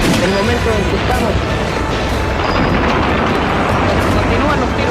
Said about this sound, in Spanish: Continúan los tiros.